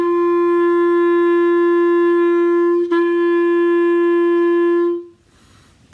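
A band instrument from a beginner method book plays the first four measures of exercise 95 as tied notes, heard as one long steady tone that breaks briefly once midway and then cuts off near the end.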